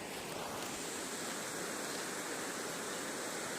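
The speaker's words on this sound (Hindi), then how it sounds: "उधर से पानी इधर जा रहा है।" Mountain stream in the Himalayan hills of Uttarakhand, water rushing steadily as a broad, even hiss, fairly faint and uninterrupted, with no voices.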